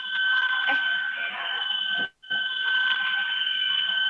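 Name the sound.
phone ringing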